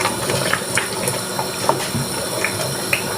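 Cassava leaf soup is stirred in a pot, giving a steady wet simmering hiss with a few faint, soft spoon taps scattered through the short stretch.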